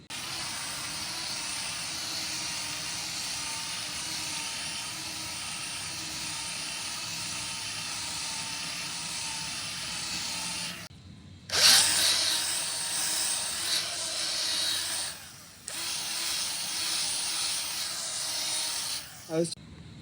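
Car polisher buffing automotive paint with ultra fine finish compound produces a steady, loud whirring hiss that cuts out briefly, then resumes with rising and falling intensity.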